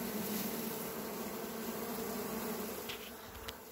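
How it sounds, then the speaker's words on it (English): A dense, steady buzzing drone of many honey bees, like a swarm humming inside a shipping box, continuous and fairly loud throughout. "Those are bees that got shipped by UPS."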